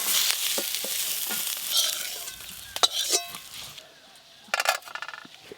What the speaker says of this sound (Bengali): সর্ষের তেল, তেল গরম হয়ে গেছে, এবার আলুগুলো সব ভেজে নেব।